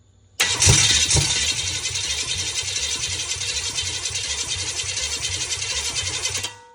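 An old Chevy 305 small-block V8, not run in years, cranks briefly and fires, then settles into a steady, loud, rough running roar with a rapid pulsing beat close by, cutting off abruptly at the end.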